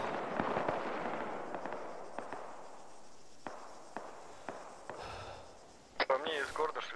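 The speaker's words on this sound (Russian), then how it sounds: "По мне из города, что ли, стреляли?" Sporadic distant gunshots from a town in the Arma 3 military video game, sharp isolated cracks spread across several seconds over a steady background hiss, ending with a louder burst of noisy sound.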